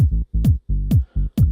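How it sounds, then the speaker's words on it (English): A punchy kick drum and a solid bass line play together in an electronic dance track, giving loud, close, rhythmic low thumps in a steady repeating pattern with sharp attacks and short gaps between hits. "So together the kick and the bass sound like this."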